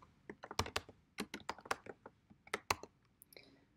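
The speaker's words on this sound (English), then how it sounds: "Let's type in another one of the commands." Commands typed on a computer keyboard, a close series of irregular key clicks and taps in short bursts with brief pauses, no speech over them.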